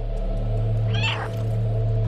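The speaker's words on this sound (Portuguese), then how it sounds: "Deixa eu miar pra mostrar que eu sou inofensivo." A single short cat meow from the playable cat in the video game Stray, heard over a steady low ambient hum.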